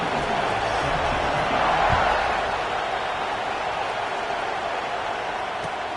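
Dense, steady roar of a packed stadium crowd at a football game just before kickoff, with the fourth-quarter game tied after an extra point; a broad continuous wash of voices that swells slightly midway, heard alone without distinct talk.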